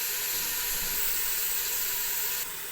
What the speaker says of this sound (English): You want to hear that sizzling sound.